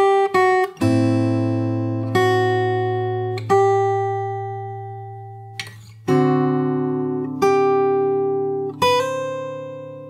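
Fingerstyle guitar plays the pre-chorus of a song: a handful of slow, spaced chords struck one after another, each ringing out and decaying before the next, close and clean with no talking.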